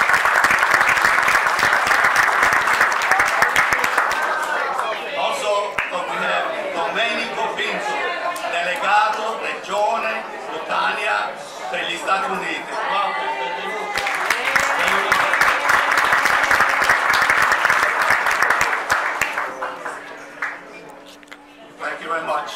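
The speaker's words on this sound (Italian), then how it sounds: "A round of applause." An audience at a 2018 dinner dance for an Italian-American association gives a long round of loud, dense applause that swells again after a brief lull, then fades to a few scattered claps at the end.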